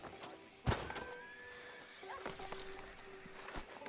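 A horse in Red Dead Redemption 2 lets out a clear whinny after a sharp thump, followed by snorting and hoof clops, near and alone without talk.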